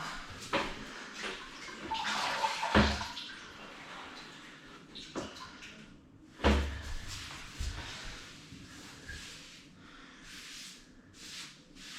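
Water sloshes and rubs against an old bathroom wall during a light wash, with irregular wiping and scrubbing strokes, two sharper knocks, and a steady wet background, close and moderately loud with no talking.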